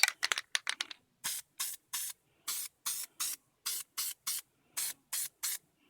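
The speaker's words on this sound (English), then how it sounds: "I'm going to spray both sides that are going to be joined together" A rapid run of short hissing bursts of spray adhesive, then a steady series of evenly spaced spray bursts, close and clear with quiet gaps between.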